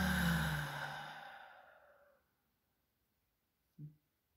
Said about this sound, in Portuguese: Vamos iniciar com uma respiração profunda